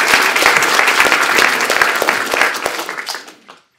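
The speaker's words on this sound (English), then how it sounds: "give her an applause" Audience applause at the opening ceremony of a planetary health symposium, a dense sustained burst of clapping from a large crowd that fades out near the end.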